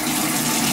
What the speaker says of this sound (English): I'm just rinsing it out of the sink.